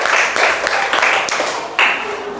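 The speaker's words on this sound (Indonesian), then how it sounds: "Oke, tepuk tangan untuk kelompok 2." Classroom applause for a student group after their discussion presentation, a dense run of many hands clapping steadily throughout with a few sharper bursts, no talk over it.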